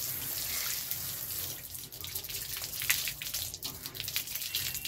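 Water runs steadily from a tap over a pipal bonsai tree as it is bathed, a close, continuous hiss with splashing that shifts slightly as the stream hits the leaves.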